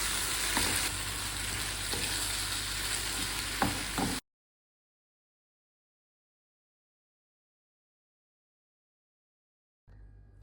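An egg omelette with tuna fries in a pan with a loud, steady sizzle for about four seconds, then cuts to silence before a faint return at the end.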